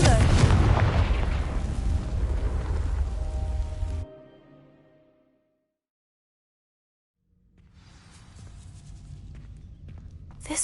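In the Hogwarts Legacy video game, the Confringo fire spell bursts against dry vines in a loud roaring blast that lasts about four seconds, dies away to silence, then rises again as a softer crackling burn.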